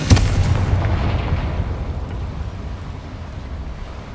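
A single loud Confringo fire-spell explosion from the Hogwarts Legacy video game, with a sharp opening blast that dies away into a long rumbling tail.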